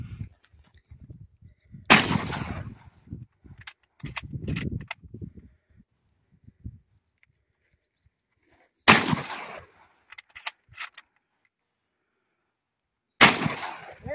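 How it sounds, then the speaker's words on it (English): Gunshots ring out at an outdoor range, three loud separate cracks spaced several seconds apart, each trailing off quickly, with brief muffled sounds and movement between shots. "Just do one shot and see how you feel."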